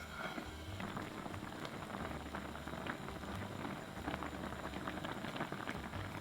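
Rice cake simmering at a boil in a pot for spicy Korean rice cakes, giving a steady, close bubbling and faint patter throughout, with no voices.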